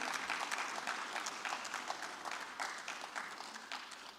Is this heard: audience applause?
yes